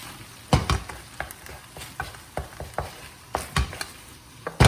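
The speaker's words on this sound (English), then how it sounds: "I'm going to add in some soy sauce. And give that a good stir around." Chicken fried rice with soy sauce is stirred in a hot pan, a low sizzle under a run of irregular knocks and scrapes from the spatula striking the pan, close and fairly loud.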